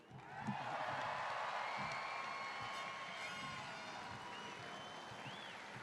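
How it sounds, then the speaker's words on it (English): Stadium crowd at the Penrith Panthers 2021 premiers celebration in Western Sydney applauds and cheers steadily, a dense wash of distant clapping with a siren-like whistle or horn rising above it. "a big round of applause for Nephi and Hohepa Puru"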